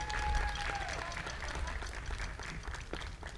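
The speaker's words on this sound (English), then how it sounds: "Let's give a round of applause." A school audience at a Special Olympics ceremony at Antonio Gonzalez Middle School claps steadily for a few seconds, with a dense wash of applause that fades slightly toward the end and a faint voice underneath.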